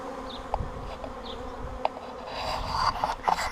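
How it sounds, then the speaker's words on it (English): Steady, deep buzzing of many drone honeybees flying close by in front of a hive, a continuous droning hum with occasional louder passes. "there's a lot of drones and flying around this front of this hive"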